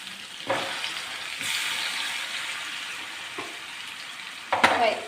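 Steady hissing sizzle of mackerel frying in a little hot oil over medium flame, with a few soft clinks and a louder clatter near the end, no voices.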